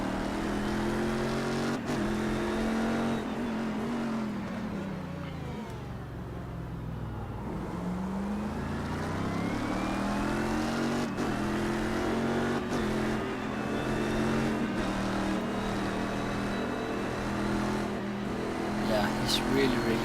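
Race cars in the iRacing sim racing game drone steadily with engine notes rising and falling through gear changes as another car closes and passes, a continuous loud engine roar throughout with speech over it.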